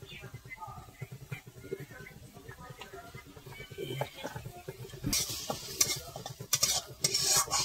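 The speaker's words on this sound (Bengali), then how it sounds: "মশলা হালকা হালকা জাল হয়ে গেছে, ভাজা হয়ে গেছে" Spices with salt and turmeric frying in a pan, stirred with a quick stream of spatula scrapes and taps over a soft sizzle, growing louder and busier toward the end, with a person talking.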